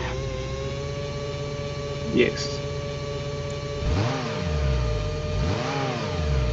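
A car engine cranks and then starts in an Electude automotive training simulator, with a steady tone before swelling engine revs rise and fall twice; someone speaks a single word briefly.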